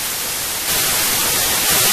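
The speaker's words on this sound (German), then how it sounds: "Immer lauteres Rauschen" Loud, steady static hiss from the horror game Sonic.exe fills the whole clip, a harsh wall of noise that jumps louder partway through and again near the end, with no voices.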